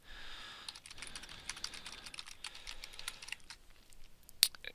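Steady typing on a computer keyboard, a fast run of light clicking keystrokes with one sharper key tap near the end.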